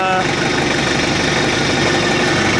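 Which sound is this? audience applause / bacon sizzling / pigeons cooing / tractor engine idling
tractor engine idling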